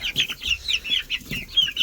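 Young chicks and chickens on a farm cheep and cluck in a quick, busy run of high peeps, near and fairly loud, with no voices.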